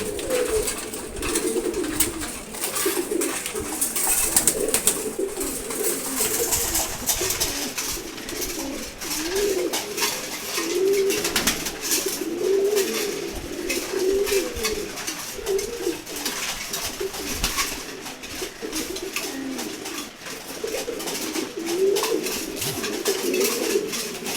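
A flock of pigeons, including racers and Giribaz, coo continuously while feeding, a dense overlapping cooing with scratchy pecking and rustling throughout.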